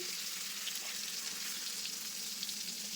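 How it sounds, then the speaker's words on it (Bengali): Eggplant slices fry gently in a pan over low heat, giving a soft, even sizzle that holds faint and steady with no talking. "বেগুনটাকে আমি কিন্তু জোর কমিয়ে ভাজতে দিয়েছি"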